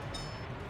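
A train rolling along in the Workers & Resources: Soviet Republic game, a soft, distant rumble of rail cars with a faint metallic squeal, no voices.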